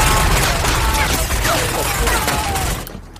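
Gunfire sound effects in a music video, a dense rapid fusillade of loud cracking shots over music, cutting off abruptly near the end.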